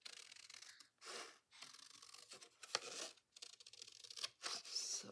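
Scissors cutting paper for a Halloween journal: soft, close snipping and crisp paper rustles in short bursts separated by brief pauses, quiet overall.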